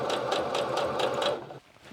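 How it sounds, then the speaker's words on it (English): A sewing machine runs a straight stitch through fabric, a fast, even whirring rhythm of needle strokes, close and loud, that stops abruptly after about a second and a half. "Now I'm just gonna do a straight stitch right where the pin is."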